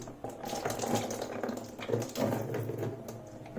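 Water runs steadily out of a basin waste pipe beneath a leaking basin, a faint, continuous trickling and splashing for a few seconds with no talking.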